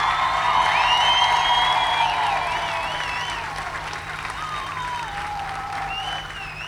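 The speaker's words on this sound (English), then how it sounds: "let's give a round of applause for JJ's family" Audience applause at a Banana Ball awards show, a loud, sustained wash of clapping with scattered cheers and whoops, slowly easing and joined by whistle-like tones.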